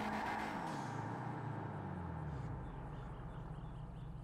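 A car is driven in GTA V Online, its engine giving a steady low rumble that drops in pitch as it settles into cruising, faint and continuous with no talking.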